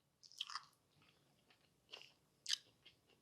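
Quiet close-up crunching bites into Cheeto-crusted barbecue ribs, a few sharp crisp crunches spaced apart with soft chewing between, no talking.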